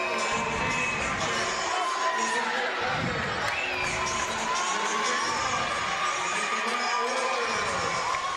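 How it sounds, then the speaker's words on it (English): Crowd cheering and shouting at a girls varsity high school basketball game in a gym, a loud, continuous roar of many voices with whoops and children's yells throughout. "So, crowd getting revved up."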